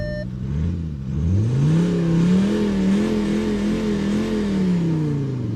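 A Skoda diesel engine, set to its sport engine sound mode, revs up and holds a steady, loud drone after a quieter first second, with no talking over it.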